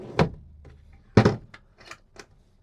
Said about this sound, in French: Rangement bas avec un panier coulissant.